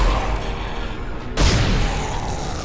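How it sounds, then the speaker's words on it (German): A Plasma Cutter fires in the Dead Space video game, one loud, sharp blast cutting through a dark ambient drone and then fading into a lingering roar. "Der erste fällt ihn, der zweite killt ihn. Ich liebe unseren Plasma-Cutter."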